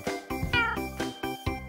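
Cat meowing in Minecraft, a quick string of about six loud, close meows in an uneven rhythm, heard alone without talk.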